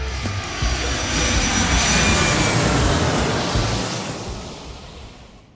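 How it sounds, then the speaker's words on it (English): A fixed-wing airplane takes off with a broad, roaring engine rush that holds steady and loud before slowly fading away over several seconds, with no voices. "Podcast flight crew, prepare for takeoff."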